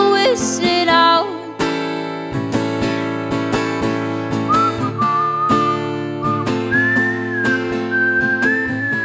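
A tune whistled by locals in a park during a live pub-style folk session, the melodic whistling running over steady strummed accompaniment with regular percussive strikes throughout.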